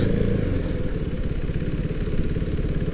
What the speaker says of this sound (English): Always nice to see people riding different motorcycles riding together